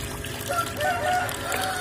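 Guinea fowl gives short, harsh calls while being bathed by hand, with water trickling and splashing beneath the brief, nearby cries.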